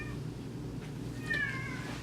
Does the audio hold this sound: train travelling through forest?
no